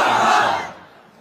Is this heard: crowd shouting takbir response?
yes